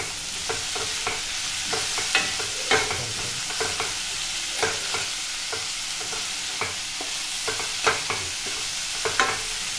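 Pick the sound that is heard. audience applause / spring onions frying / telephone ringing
spring onions frying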